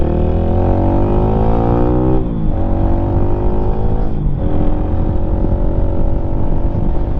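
A Lifan motorcycle engine runs in first gear with a loud, close, steady buzzing drone whose pitch rises, dips briefly twice as the revs change, then climbs again.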